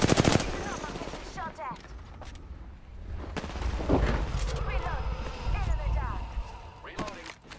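Bursts of gunfire in Apex Legends ring out in sharp, repeated cracks across a busy battle mix, with game voice lines and talk running over the shots throughout.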